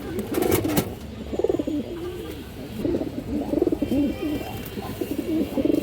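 Domestic pigeons, a female among high-flyer and Palla-line birds, coo in soft repeated throaty bursts close by, several rolling calls following one another over a few seconds.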